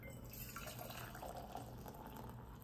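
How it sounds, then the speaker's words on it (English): Freshly boiled water pours steadily into an insulated stainless food jar, a close, continuous liquid fill with a trickling, gurgling texture and no talk. "So I'm gonna put water in here, leave a little bit of air at the top"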